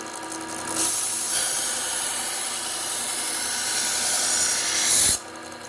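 A knife is held against a running sharpening belt, giving a continuous loud abrasive hiss and rasp for about four seconds before lifting off, with the belt motor humming on alone afterward.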